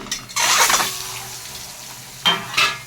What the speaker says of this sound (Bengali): ডিম কটাকে একটু নুন হলুদ মাখিয়ে নিচ্ছি। ভাজতে দিয়ে দিচ্ছি